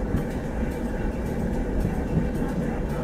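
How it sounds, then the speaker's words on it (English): A diesel railcar in a train simulator game coasts and slows on a mountain passenger run, giving a steady close low rumble and rolling rail noise with faint rhythmic clatter. "I guess I'm just going to let the train slow down by itself here until our target gets lower"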